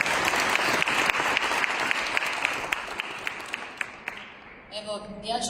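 An audience claps loudly at a fair's opening ceremony, a dense burst of applause that thins out and fades, with a voice starting to speak at the end.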